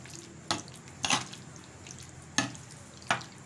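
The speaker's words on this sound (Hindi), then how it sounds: "सबसे पहले जो है हम इसको करेंगे दोबारा से अच्छे तरीके से मिक्स चम्मच के साथ" Beef boti pieces being stirred and mixed with a spoon in a pot, four distinct scraping clinks spaced irregularly over a faint sizzling background, close and fairly clear with no talk.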